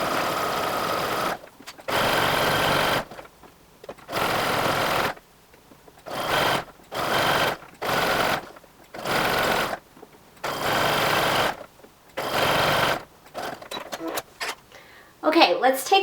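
A sewing machine runs a zigzag stitch attaching elastic to fabric for underwear, in repeated bursts of steady whirring, each a second or two long, separated by short pauses. Loud and close, with a little handling noise near the end.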